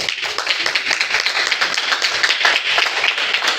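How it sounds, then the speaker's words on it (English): An audience at a business networking meeting's visitors day claps for guests, close, busy continuous applause with individual claps distinct, sustained evenly. "Can we have a round of applause for them?"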